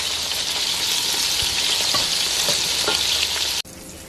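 Meatballs fry in a pan of hot oil, a loud, dense, continuous sizzle and crackle up close with scattered pops, cutting off abruptly near the end to a quieter hiss.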